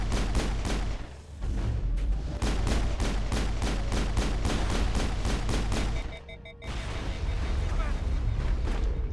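Mass Effect combat erupts with a grenade blast and sustained rapid gunfire, loud and dense throughout, with a couple of brief lulls and a voice talking over the action.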